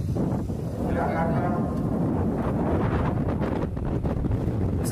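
Strong gusty wind, a whirlwind sweeping through an outdoor Indonesian Independence Day flag ceremony, roaring and buffeting the microphone loudly and continuously, with voices faintly beneath.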